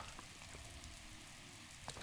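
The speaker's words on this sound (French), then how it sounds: "dans le jeu, il pleut" Soft, steady patter of rain falling on a surface in the video game Zelda: Breath of the Wild, a faint continuous hiss with occasional heavier drops.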